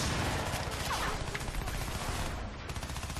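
Dense, continuous gunfire rattles through a firefight in the shooter game Crysis 3, loud rapid bursts packed together with no pause.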